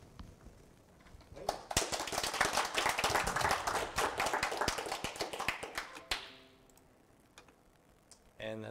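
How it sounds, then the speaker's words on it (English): Audience at an evening lightning-talks meeting bursts into sustained applause for several seconds, dense and close, then tapers off into quiet room noise. "thank you, speakers. Round of applause."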